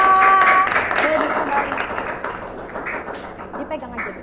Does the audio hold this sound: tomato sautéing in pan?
no